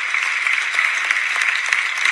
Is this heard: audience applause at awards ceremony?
yes